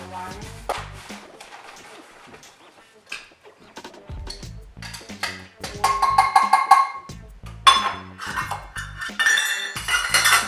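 Confectioner sugar is measured into a ceramic bowl for macarons. Utensils knock and clink against the bowl and each other in a close, irregular series of sharp clatters.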